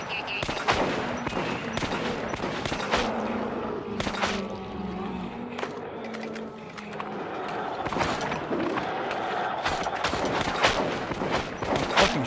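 Rapid gunfire fills a firefight in the shooter game Metro 2033 Redux: dense bursts of close, sharp shots and automatic volleys, with game music and occasional voices underneath.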